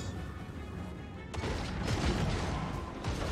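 Artillery fire from a Total War: Warhammer 3 battle, heard as a dull rumbling barrage of distant booms, with a sharper burst of shots partway through and the din rolling on.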